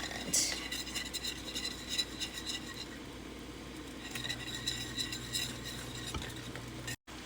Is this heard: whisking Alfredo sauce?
yes